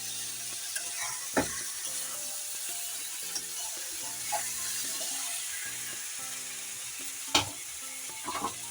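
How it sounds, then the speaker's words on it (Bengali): Curry masala for a crab and potato curry sizzles softly in a pan while a spoon stirs it, with a low continuous frying hiss and occasional sharper scrapes and clicks. "ভালো করে কষিয়ে নেব।"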